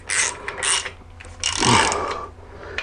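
Ratchet socket wrench clicking on a rear suspension bolt while changing car shock absorbers, two short bursts of close ratcheting followed by a longer steady run of clicks.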